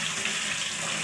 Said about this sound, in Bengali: এভাবে পুঁটি শুটকি ডালার ভিতরে ধুইলে একদম বালা থাকবে না।